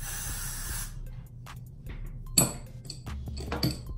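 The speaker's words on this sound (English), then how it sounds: "you spray it down with custom glue spray" A few short hissing bursts of aerosol glue spray on a hair frontal, quiet and close, separated by pauses.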